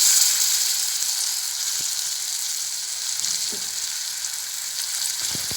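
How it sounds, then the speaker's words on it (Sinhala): Ingredients frying steadily in a pan for a soya dish, a continuous bright sizzle with a few faint clinks of stirring near the end, no talking. "දැන් නම් ලස්සන පාටකට බැදීගෙන එන්නේ."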